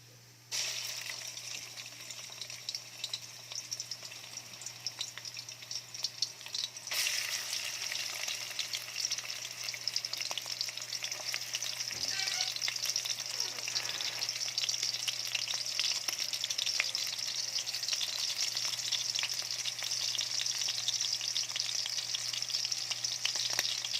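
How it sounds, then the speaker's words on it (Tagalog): Ground pork sizzles and fries in cooking oil in a pan for ginisang upo, a steady loud crackle that swells after a few seconds and continues without pause, with occasional stirring scrapes. "So, iprito muna natin yung giniling."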